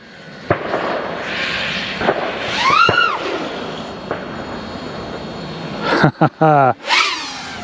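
An iFlight MACH R5 Sport FPV racing drone tears through the air with a loud, whining motor roar, rising and falling in pitch with sharp throttle punches and a burst of rapid revs near the end.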